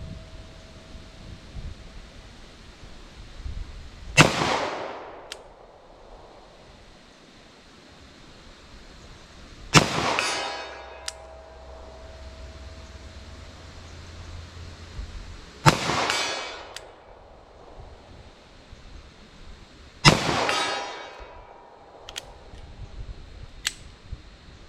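Four heavy handgun shots fired outdoors with 10mm and .357 SIG bear loads from Grizzly Cartridge Company, evenly spaced several seconds apart, each a sharp loud crack followed by a long decaying rumble over faint background noise.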